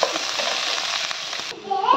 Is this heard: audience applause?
no